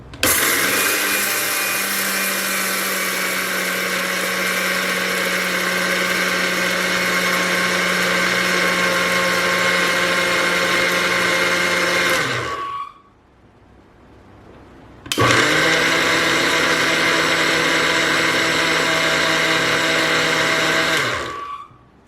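Blender pulsing roasted flaxseeds: a loud, steady grinding whir that runs about twelve seconds, stops for roughly two seconds of near quiet, then starts again at the same strong level, close and alone.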